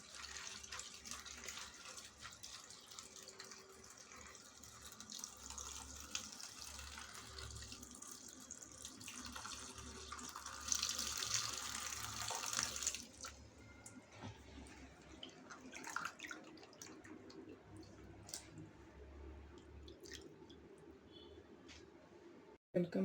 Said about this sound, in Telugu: పాలకూర కడుగుతున్నాను అండి